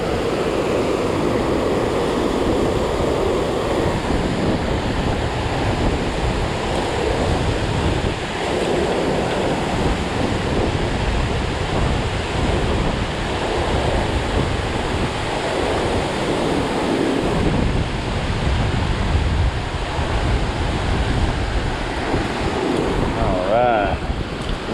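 Strong wind roars by a dam while bluegill fishing, buffeting the microphone in a loud, continuous rush that swells and eases, with water noise beneath.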